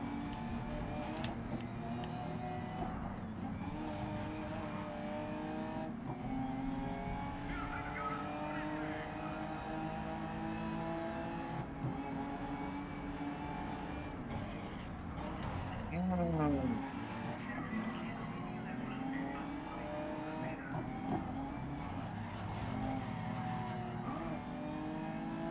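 A race car in GRID Legends on a track day, its engine droning steadily and shifting pitch through gears, with a rising and falling rev sweep midway and a person talking over it.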